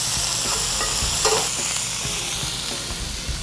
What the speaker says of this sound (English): Now the tuna, you just want to sear it a little bit